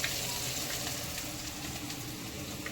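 Chopped tomatoes sizzle in a frying pan while bottle gourd sabzi cooks, a steady, close, even hiss of frying with no pauses or voices.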